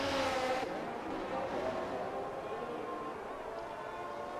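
F1 car engines from the F1 2022 video game at Zandvoort, a steady broadband drone of race cars on track, loudest at the start and then holding at a constant level with no talk.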